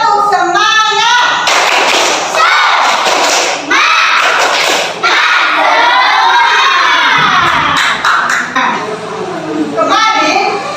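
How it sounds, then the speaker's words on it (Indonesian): Classroom of schoolchildren performing the Indonesian 'tepuk semangat' spirit clap chant, loud shouted chanting voices mixed with rhythmic clapping and thumps, close and energetic throughout, with a teacher's voice at the start. "Tepuk semangat, kita hitung dari 1, 2, 3 ya."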